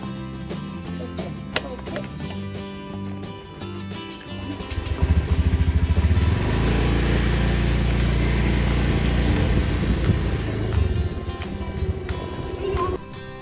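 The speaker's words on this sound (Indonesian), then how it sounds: "Kita berangkatnya pakai motor saja." A motorcycle engine idles, then revs up and rides off, a steady loud drone that swells around the middle and eases toward the end, with no talking.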